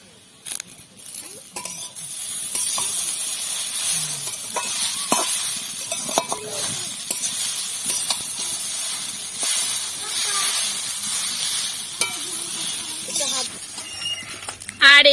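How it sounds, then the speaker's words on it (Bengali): Egg chowmein frying again after chowmein masala and salt go in, a hissing sizzle with stirring scrapes and utensil clinks, fairly close, fading in at the start and swelling loudly at the end. "এবার আমরা আরো একবার ভেজে নেব।"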